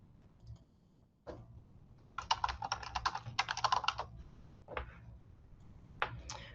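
Computer keyboard being typed on to enter text into a shape in Google Slides, a few isolated clicks followed by two quick close bursts of keystrokes and then scattered single taps, near and clear with no talk.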